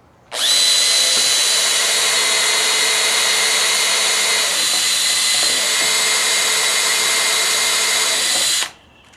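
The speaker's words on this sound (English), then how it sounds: "I'm going to use a pilot drill bit recess tool here" A power drill with a pilot drill bit recess tool bores into an angled house fascia board for gutter installation, a loud, steady high-pitched whine running continuously for about eight seconds before stopping sharply.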